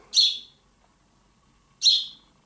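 Two short, high chirps from a house sparrow fledgling, close by, about a second and a half apart, with quiet in between.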